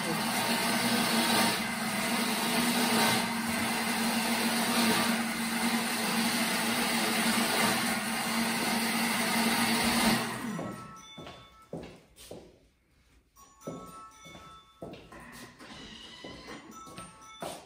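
A Thermomix runs at speed 6, blending peas and vegetables for pea guacamole and vegetable tartare: a loud, steady whirring drone for about ten seconds, then it stops and softer kitchen clatter and talking follow.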